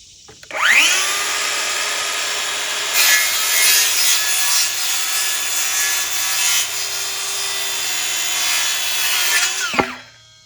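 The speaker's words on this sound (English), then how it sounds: "scribe a line, take my circular saw" Circular saw spinning up and cutting a wooden board for a livestock shed, a loud sustained whining cut of about nine seconds, close by, then the blade winding down.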